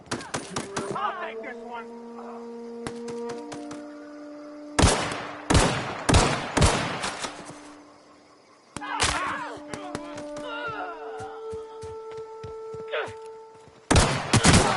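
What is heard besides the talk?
gunfire in a firefight, from video game The Outer Worlds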